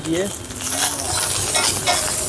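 Fried rice stir-fried with spices in a pan at a long-running Kolkata street stall, a steady close sizzle with scraping and clinking of the spatula against metal, loud and continuous.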